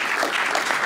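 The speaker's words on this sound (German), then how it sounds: "Applaus für Luca!" An audience applauds a volunteer named Luca at a magic show, steady dense clapping filling the short moment at close range.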